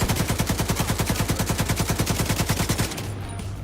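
Sustained rapid automatic gunfire from a machine gunner in The Division 2 video game, loud and steady rhythmic bursts lasting nearly three seconds before cutting off to a quieter tail.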